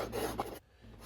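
A tool rasps across a carved wooden violin plate, a bright, crunchy scraping stroke heard close and alone, ending abruptly partway through.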